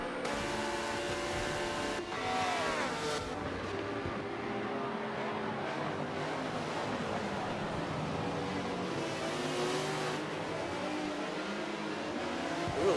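GT race cars including a McLaren, Ferrari and Porsche race at Yas Marina, engines roaring and revving continuously with gear changes and cars passing, loud and sustained with no pauses.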